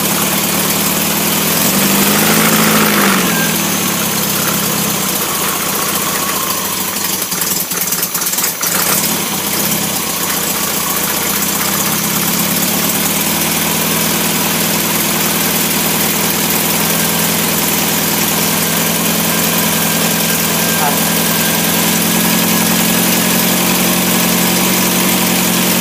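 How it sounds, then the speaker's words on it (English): An MG engine ticks over on a test bed, a steady, close idle with even mechanical vibration that runs unbroken for the whole stretch, with a brief disturbance early on and no talking. "So I tick over."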